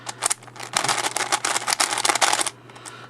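Plastic 4x4 speed cube being turned quickly, its outer layers clicking in rapid, dense bursts of sharp close-up clacks for a few seconds.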